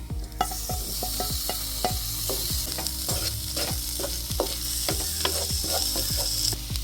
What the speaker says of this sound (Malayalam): അപ്പോൾ ഇതിലേക്ക് നമുക്കിനി തക്കാളി തക്കാളി ചേർക്കാം